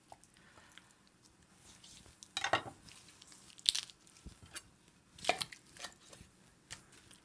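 A knife works through a roast holiday turkey, separating the drumsticks from the thighs with a few quiet, crunchy cuts and soft squishes spaced over several seconds.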